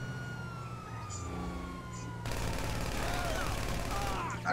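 Police siren wailing during a GTA V chase, mixed with rapid gunfire bursts in the game, both steady and fairly loud throughout with a dense layered background.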